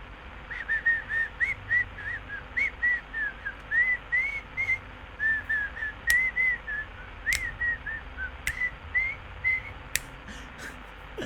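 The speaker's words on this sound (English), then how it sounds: "I hear your whistles." Someone whistles a repeated melodic tune in the horror video game Fears to Fathom, the short phrases steady and fairly close, punctuated by a few sharp clicks over a low background hum.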